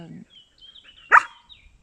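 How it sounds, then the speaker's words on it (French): A single dog's bark rings out sharply at close range in a quiet indoor setting, with faint speech just before it. "Oui, désolée pour le chien."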